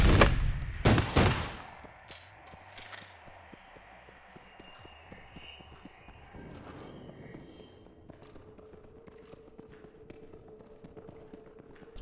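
Loud bursts of gunfire in the online game APB Reloaded open the sequence in the first few seconds, followed by quieter game ambience with faint scattered clicks and thuds.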